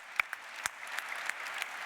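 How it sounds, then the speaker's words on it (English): Scattered applause from a keynote audience, a few sharp individual claps over a thin wash of clapping, brief and moderately close. "a big applause for that"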